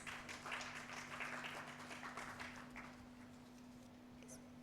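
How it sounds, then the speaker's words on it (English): Scattered clapping from an audience, a steady patter of many hands at moderate distance, tapering slightly toward the end over a low background hum. "Let's give a big round of applause"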